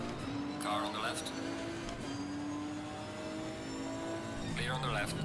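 GT race cars running side by side in Assetto Corsa Competizione, engines droning loudly with rising and falling pitch as gears change, while someone talks over the racing noise.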